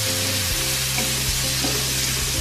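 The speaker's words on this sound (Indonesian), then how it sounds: "Langsung aja kita tumis bawang merah dan bawang putih." Shallots and garlic sauté in leftover oil from frying salted fish, loud and close, a steady crackling sizzle with occasional stirring scrapes and no talking.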